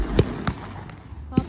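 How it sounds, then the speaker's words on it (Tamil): Firecrackers going off on a beach in a Thai village at New Year, a few sharp distant pops and bangs spaced irregularly over a murmur of background noise. "பாருங்க, நாங்களும் இப்போ வெடி ஸ்டார்ட் பண்ண போகிறோம்."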